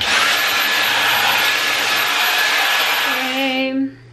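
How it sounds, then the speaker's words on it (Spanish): A vacuum cleaner runs loud and steady, cleaning up debris in a bathroom under renovation, then winds down and cuts off near the end. "Ya quité todo lo que cayó de arriba con la aspiradora."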